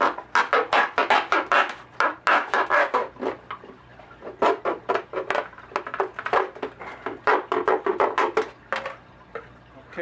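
A plastic bottle is cut to remove its top, making a rapid series of crunching, scraping cuts that come in quick irregular bursts close by, with no talk.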